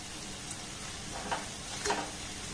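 Sweets deep-frying in oil, a soft steady sizzle with a few faint pops and one or two light clinks near the end, close and quiet throughout.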